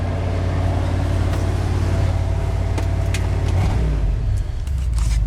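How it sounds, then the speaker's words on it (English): Big block V8 engine idling with a steady, loud low rumble that holds throughout, a brief dip near the end, no voices over it. "Put it down to idle. Listen to the big blocks."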